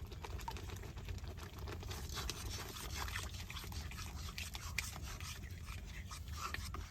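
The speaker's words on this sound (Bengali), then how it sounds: "বেশ সুন্দর করে নাইরা দিব।" Boiled potato mixed with flour dough is stirred in a pan, giving a faint, continuous rubbing and scraping with soft sticky squelches throughout.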